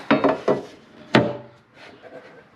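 A luggage rack panel is set into the tour pack of a Harley-Davidson Low Rider ST, giving a few close, hollow knocks followed by softer scraping and shuffling, with no voices.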